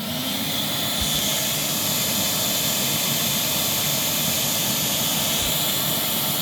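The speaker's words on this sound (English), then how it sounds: "Now let's turn on the main motor." A Fairfax vacuum cleaner's main motor runs at full speed, a loud, steady roaring whoosh with a high whine that holds constant across the whole stretch.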